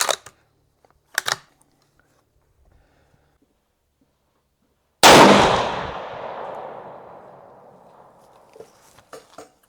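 One loud, close rifle shot from a Ruger Gen 2 chambered in 7 PRC firing Hornady ELD-Match and ELD-X ammunition at a range, with a sharp crack and a long decaying echo, preceded and followed by faint clicks and handling sounds.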